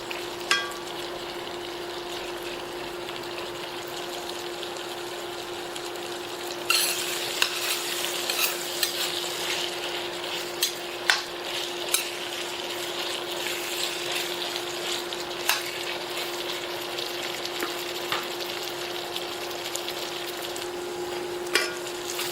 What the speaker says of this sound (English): Sausage is cooking away.